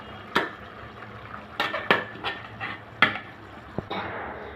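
Chicken tehari in a pot being stirred after a splash of kewra water, with several distinct spoon knocks and scrapes against the pot over a soft simmer; no talking.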